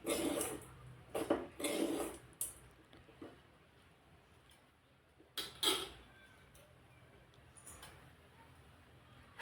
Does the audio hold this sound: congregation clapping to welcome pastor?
no